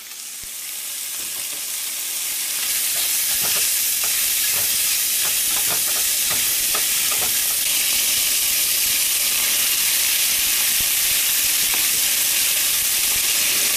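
Bacon sizzling hard in a pan, a loud dense crackle and hiss that swells over the first few seconds and then holds steady, close up, with scattered pops early on and no talking.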